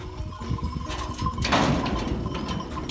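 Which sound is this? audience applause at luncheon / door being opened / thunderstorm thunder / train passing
door being opened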